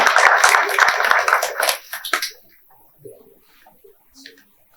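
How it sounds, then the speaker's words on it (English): Audience applause at a book launch, a burst of many hands clapping for about two seconds, then fading out into quiet room noise with faint stray sounds. "let's applaud for him"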